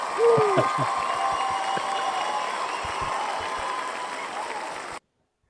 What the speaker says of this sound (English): Here we go for the cheer